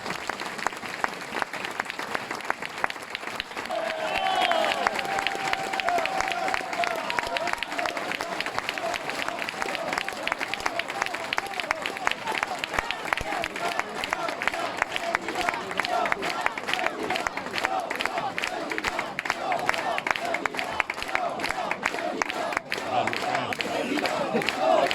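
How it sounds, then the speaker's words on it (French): Long, steady applause from an audience at a political meeting in Conquereuil, honouring the volunteers, with dense clapping and some cheering throughout and voices mixed in the crowd noise. "On peut applaudir tous les bénévoles qui ont permis ça."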